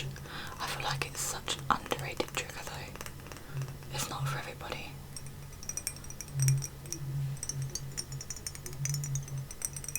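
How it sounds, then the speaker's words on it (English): Light, quick taps on glass ring out in short clusters beneath soft, close whispering, fading to sparse clinks in the second half. "I love glass tapping."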